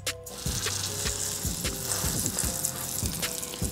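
Flour-dredged beef patties for Salisbury steak sizzle and fry steadily in a hot skillet, with repeated soft thumps and scrapes as they are laid in and pressed down.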